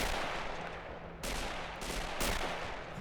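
Distant infantry gunfire in the Men of War battle game: a few sharp rifle-like reports at about 1.2, 1.8 and 2.2 seconds over a steady background rumble of battle ambience, no voices.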